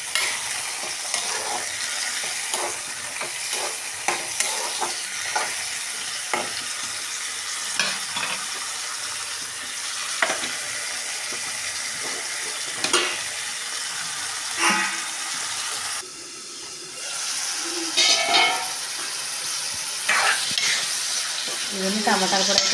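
Tomatoes for a tomato-coriander chutney sizzle in a hot pan while a spoon stirs and scrapes them, giving a loud continuous frying hiss with irregular scraping strokes up close.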